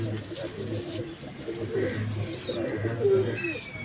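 Pigeons coo softly in low, repeated burbling calls, with faint chirps and a murmur of background noise.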